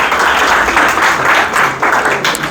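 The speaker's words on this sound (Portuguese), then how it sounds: "uma salva de palmas para os nossos voluntários" Audience in a church lecture hall applauding volunteers, a steady dense round of clapping from many hands, loud and close, swelling and dipping slightly over a couple of seconds.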